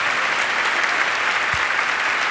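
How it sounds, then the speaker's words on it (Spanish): A comedy show audience applauds, a dense steady wash of clapping filling the room for a couple of seconds. "Te aplauden."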